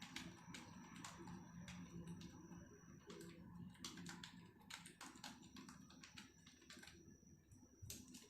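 Numbers being typed on a computer keyboard while entering data into an Excel spreadsheet, heard as steady, close, irregular clicks of varying density throughout with no talking.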